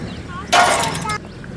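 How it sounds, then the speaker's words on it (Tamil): Water splashes into a pot in a brief, loud pour lasting under a second, close up against a quiet kitchen background. "இதுக்கு மேலே கழுவுன்னு தண்ணி ஊற்றிக்கலாம்."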